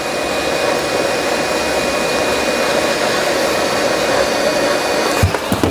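A heat gun heating the back cover of an MSI GE76 Raider laptop blows with a loud, steady whooshing roar throughout, ending with a few clicks and bumps.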